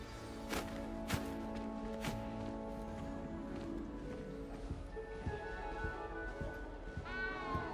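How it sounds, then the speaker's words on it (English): A small cat in Hogwarts Legacy lets out a string of short, clear meows, some close together and some spaced apart, over soft footsteps and ambient game sound. "You don't need to be frightened, little cat."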